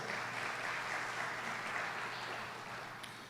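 A church congregation applauds during a Portuguese-language worship service, a steady dense wash of clapping that carries on for the whole stretch and fades slightly near the end.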